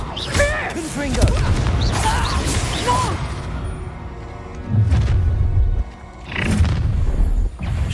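Confringo explosive spell blasts in the Hogwarts Legacy video game, heavy booming impacts and crashing bursts with whooshes, several in succession, loud and mixed with voices and combat noise.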